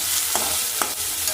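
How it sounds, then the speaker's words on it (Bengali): Onion and garlic fry in a pan with a continuous, close sizzle, and a couple of soft scrapes from stirring come through with no talking. "পেঁয়াজ রসুন ভাজাও শুরু করে দিয়েছি।"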